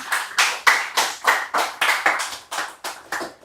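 Steady, evenly spaced claps at a tech meetup, about three per second, loud and close, with no voices. It sounds more like one or a few people clapping in rhythm than a full crowd.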